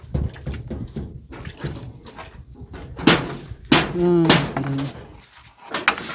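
Nails are hammered into zinc roofing sheet while a house is being built. A few sharp, irregular metallic strikes ring out between quieter handling noises, with a voice heard in the background.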